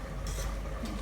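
Red onion being stirred in a pan for chili con carne, a soft continuous scraping and faint sizzle, quiet and close.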